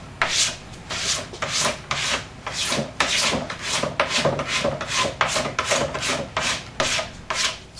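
A plastic scraper is pushed in repeated rhythmic strokes across a waxed snowboard, each pass giving a close, rasping scrape, with roughly two strokes per second throughout.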